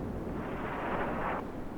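A single shot fired in an online shooter game, a dense, loud, sustained burst of noise that swells briefly before cutting off, with no talk over it.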